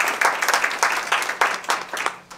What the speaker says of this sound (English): Round of applause, Dr.